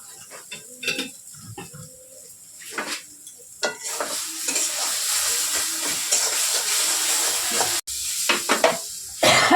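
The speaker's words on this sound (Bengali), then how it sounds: "ভালো করে নাড়িয়ে একটু শুকিয়ে নেবো" Taro leaves (kochu shak) with hilsa fish head sizzle and hiss steadily in a hot pan while a spoon stirs and scrapes in irregular strokes, growing louder and denser toward the end.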